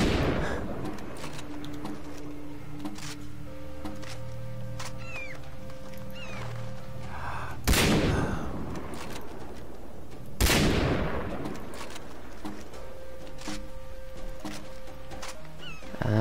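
Gunfire in the video game Far Cry 3: two loud, sharp shots stand out against a busy game soundscape of ambient noise, tones and effects, with someone talking faintly at times.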